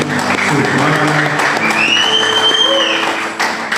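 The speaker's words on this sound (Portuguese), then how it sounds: "Você pode aplaudir o Senhor pela vida dele?" Church congregation applauding during a service in Petrópolis, a steady wash of clapping hands with tonal sounds and a brief voice running beneath it.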